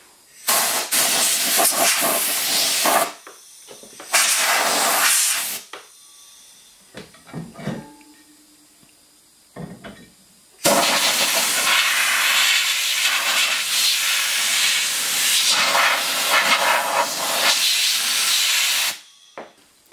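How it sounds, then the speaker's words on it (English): An air compressor nozzle blows off a brake drum before powder coating, giving loud close bursts of rushing air hiss, two short blasts, a quieter gap with small clatters, then a long sustained blast. "I also like to take this chance to just blow the piece off with air compressor"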